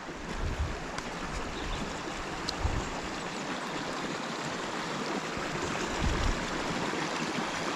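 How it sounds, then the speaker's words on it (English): River water flowing through pipes under a concrete road in a valley and spilling into the water below, a steady churning, bubbling rush close by with occasional low rumbling surges. "I love that when you see the water going into water and creating all those white bubbles."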